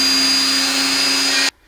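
A power drill whines steadily and loud while boring a series of small holes for the nose of a wooden Dutch doll, then cuts off abruptly.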